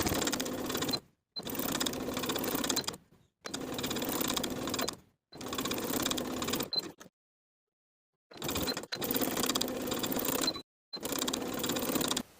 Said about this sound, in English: we'll top stitch in place, edge stitching along the finished edge of the bodice all the way around